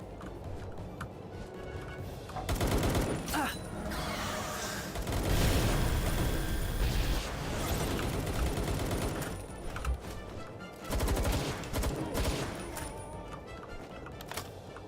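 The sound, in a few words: fireball explosion in the Palworld video game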